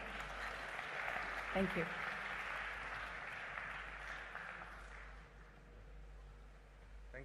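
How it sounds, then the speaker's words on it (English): Applause greets a guest speaker at the inauguration of the 21st BioAsia event, a steady broad wash of clapping that fills the room, with a brief spoken thanks near the start. "let us welcome him with a huge round of applause."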